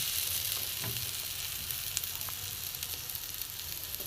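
Bread slices coated in egg and flour batter fry in a light film of oil, giving a steady close sizzle with scattered small pops and crackles throughout.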